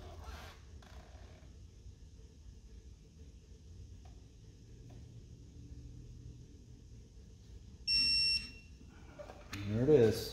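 A digital torque wrench gives a short, sharp electronic beep alert while tightening a bolt on an early Alpha One transom bellows job. A second faint chirp follows, against a quiet workshop background.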